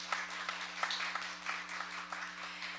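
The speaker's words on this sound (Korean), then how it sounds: "다시 한번 큰 박수 부탁드리겠습니다" Applause from a forum audience at an ecological agriculture event, faint and somewhat distant, a soft patter of clapping over a steady low electrical hum.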